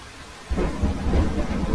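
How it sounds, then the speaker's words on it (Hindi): Heavy rain pours steadily while deep rumbling thunder rises after a quiet opening, building into a loud, continuous storm roar with no voices. "बारिश बहुत तेज थी।"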